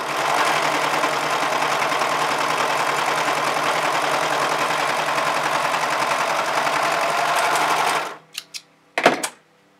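A Brother 1034D serger runs continuously, stitching cotton or stretch fabric with a fast, even mechanical whir and rattle close by, then stops abruptly near the end, followed by a few short clicks and knocks.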